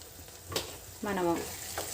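Meal maker (soy chunk) curry with tomato and chili powder frying in hot oil, a steady soft sizzle with a brief stirring scrape and a short, faint voice-like tone midway.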